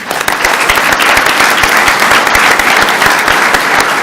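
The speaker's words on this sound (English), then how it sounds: "Give yourselves a round of applause." An audience at the 2020 Great American Water Taste Test breaks into loud, sustained applause, many hands clapping in a dense, even patter without pause.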